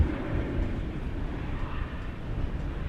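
A Boeing 787-9 Dreamliner airliner at Dallas Fort Worth airport produces a low, rumbling jet drone, moderately loud and steady across a short stretch.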